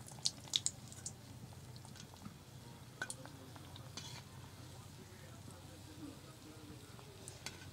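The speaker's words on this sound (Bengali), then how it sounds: "তেলটা আরেকটু সময় লাগবে একটু গোল্ডেন কালার করে ভেজে নেবো" A potato snack fries in oil until golden, making a faint, quiet sizzle with occasional soft stirring clicks while a person talks over it.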